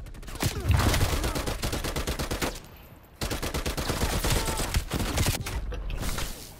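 Dense video game gunfire from Call of Duty: Black Ops Cold War, with rapid overlapping bursts of shots that are loud and close. The firing runs steadily, breaks briefly near the middle, then starts up again.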